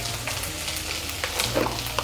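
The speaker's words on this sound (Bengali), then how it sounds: "মিশিয়ে নিয়ে মশলাটাকে একটু কষিয়ে নেব" Salt, chili powder and turmeric fry in hot oil for a curry masala, giving a steady close sizzle with a few soft stirring clinks and no voices.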